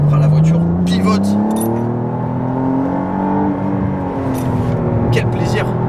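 A McLaren Artura hybrid sports car pulls through a corner, its engine droning and rising then falling in pitch, heard loud from inside the cabin while someone talks over it.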